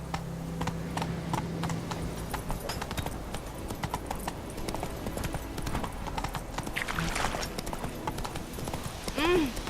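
Geralt's horse Roach from The Witcher 3 gallops with steady, fast clip-clopping hooves throughout, voices and game effects layered over the hoofbeats and a brief whinny near the end.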